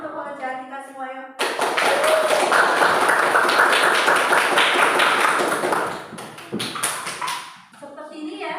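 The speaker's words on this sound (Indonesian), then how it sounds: "Kita beri tepuk tangan untuk pekerjaan kita semua" A classroom group bursts into lively clapping that lasts several seconds, bracketed by a voice speaking before and after.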